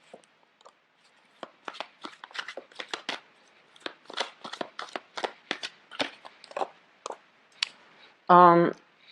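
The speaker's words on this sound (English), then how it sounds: "let me get the cards all laid out first" Tarot cards being shuffled and laid out for a reading: a steady run of crisp, close slaps and clicks at an uneven pace, ending with a short spoken voice.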